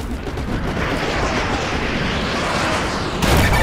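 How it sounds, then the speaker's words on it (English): Artillery barrage in Modern Warfare 2 Remastered, called onto vehicles with a laser designator: a steady, dense rumble of distant blasts and battlefield noise throughout, swelling into a louder, nearer burst near the end. "use your laser designator to call in artillery on those vehicles"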